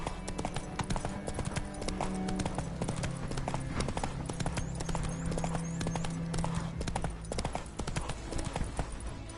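Roach, the horse in The Witcher 3 on PS4, gallops with dense, continuous hoofbeats over a layer of game music and ambience.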